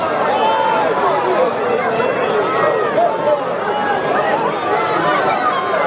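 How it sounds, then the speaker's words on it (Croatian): Crowd at a bullfight in Kakanj, a dense, loud, continuous din of many voices shouting and cheering close by, with no single voice standing out. "To su ovacije, to su navijanja."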